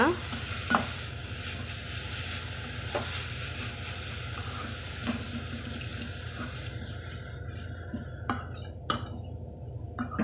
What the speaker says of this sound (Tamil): சேர்த்துட்டு நம்ம கலந்து விட்டுக்கலாங்க.